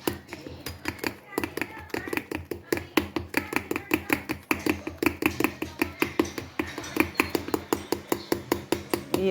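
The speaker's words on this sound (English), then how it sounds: "we mix it well." Pancake batter with egg is beaten by hand in a bowl, a rapid, even series of close clinking taps from the utensil against the bowl.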